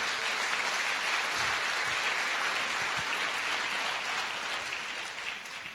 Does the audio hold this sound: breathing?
no